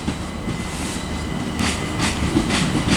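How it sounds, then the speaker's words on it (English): London Overground Class 378 electric train pulling into Watford Junction on the West Coast Main Line, a loud steady rumble of wheels on rail with rhythmic clicks from the track joints. "also arriving is another London Overground service terminating from London Euston"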